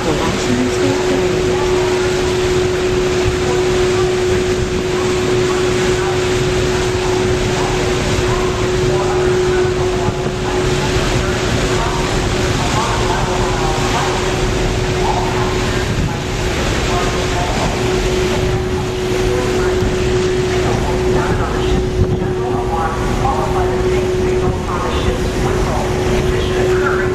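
A Washington State Ferry departs Kingston with a constant deep engine drone and a steady tonal hum throughout, while an announcement voice talks over the ship noise.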